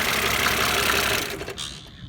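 An 80s or 90s Mercedes-Benz engine idles with no load, a steady, fairly loud mechanical hum and clatter heard up close and alone, easing slightly toward the end.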